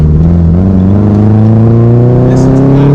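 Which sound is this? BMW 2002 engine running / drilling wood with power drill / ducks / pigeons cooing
BMW 2002 engine running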